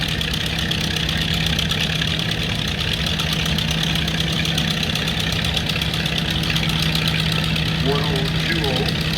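A 1983 Marshall two-wheel-drive tractor engine runs steadily at a steam rally in County Cork, a continuous loud, close, knocking idle with a constant low hum throughout and a few brief bird chirps near the end.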